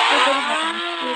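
A motorbike engine in the mobile game Indian Bike Driving 3D drones loudly and steadily, a bright buzzing rev that holds for the whole moment with a slight dip near the end.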